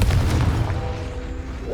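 A Confringo blasting spell goes off in Hogwarts Legacy: a loud, close fiery boom bursts at the start, then settles into a rumbling, fading tail with lingering low hum.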